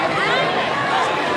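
Large crowd at a state kabaddi gold cup tournament on a school ground in Aunta, Mokama, Bihar, a dense continuous wash of chatter and babble close around, with a voice speaking over it.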